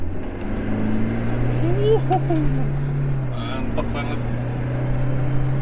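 A modified Stage 2 Toyota Innova Reborn family MPV accelerates at full throttle, a steady low engine drone heard from inside the cabin with a voice talking over it.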